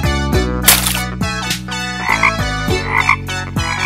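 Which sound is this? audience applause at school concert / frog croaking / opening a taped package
frog croaking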